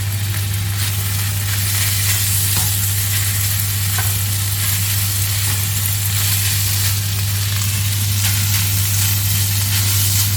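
Thai basil fried rice is stir-fried in a hot pan, giving a loud, continuous sizzle with stirring scrapes over a steady low hum, likely a burner or hood, and no talking.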